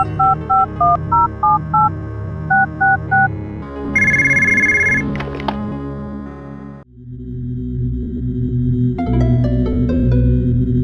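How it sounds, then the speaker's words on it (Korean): In the Pokémon Dusk video game, a phone call to the professor starts with a fast repeating electronic ring in short chirping bursts. A higher tone follows, then louder game music takes over. "공박사에게 전화를 걸어보는데요"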